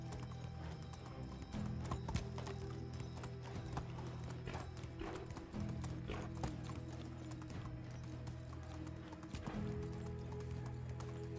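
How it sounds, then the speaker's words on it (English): Horse hooves clip-clop steadily on a path in the medieval video game Medieval Dynasty, a quiet, regular trotting rhythm with the horse occasionally snorting, over faint ambient game sound. "No, don't push your horse too hard."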